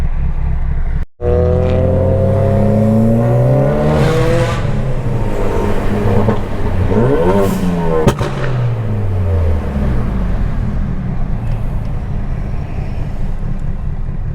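A Ford Focus RS and a big-turbo Mitsubishi Evo 9 street race, heard as loud, continuous engine roar with rising and falling revs through gear changes. A brief sharp dropout comes early, and heavy wind and road noise run throughout.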